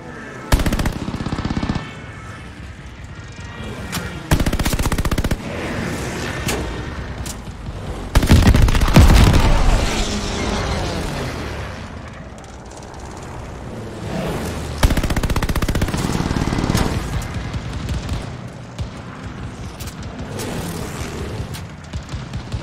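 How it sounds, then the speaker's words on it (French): Rapid machine gun fire from the Call of Duty Vanguard campaign rattles almost continuously, loud and dense, with heavier booming bursts and explosions layered in. "Je subis trop de tirs."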